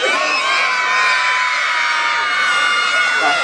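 A big crowd of children shouts and cheers together at a Sinterklaas arrival in Cuijk, a loud, sustained mass of high voices that fills the whole stretch without pause.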